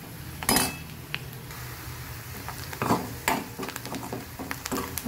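Tomatoes tip into a pan of bottle gourd, with sharp metallic clatters of a utensil against the pan, a few scrapes and stirring knocks, and a light sizzle beneath, close and moderately loud.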